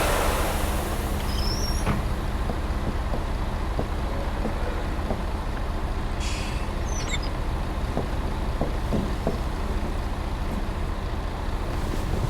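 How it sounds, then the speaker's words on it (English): A city bus pulls in with a continuous heavy diesel rumble, while short hissing bursts of air brakes rise above the engine noise. "Look, the bus. Finally."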